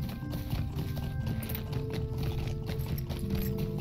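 Hooves of a horse galloping in a Lord of the Rings video game, a continuous rapid clip-clop rhythm that is loud and close, with no voices over it.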